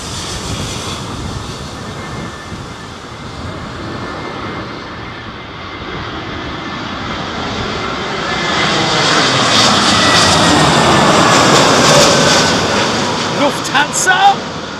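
A Lufthansa airplane at London Heathrow during Storm Isha, its jet engine roar loud and sustained, swelling as the aircraft passes near, with wind and people talking under it.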